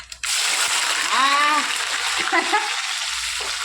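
Chopped onions drop into hot oil in a clay pot for fish curry, setting off a loud, dense sizzle that starts abruptly and holds steady, with a few brief voiced sounds over the frying.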